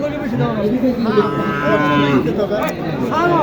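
A cow or Sahiwal bull lows with repeated drawn-out moos amid the steady background chatter of a busy cattle market at Mataji Haat in Naogaon district.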